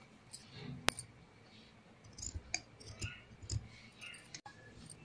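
Scissors cutting a fabric frill for a baby frock, with quiet, irregular snipping and clicking sounds, one sharper click standing out, in an otherwise quiet room.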